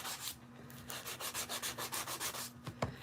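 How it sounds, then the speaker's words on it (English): Sandpaper scrubs the backing off a cheap Dollar Tree mirror in quick, rhythmic back-and-forth strokes, close and moderately loud, ending with a couple of knocks. "So I am sanding off the backing of a mirror from Dollar Tree"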